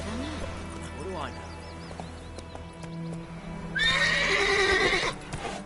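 Geralt's horse Roach gallops with clip-clopping hooves and lets out a loud whinny partway through in The Witcher 3, set among game sounds and under a player's speech.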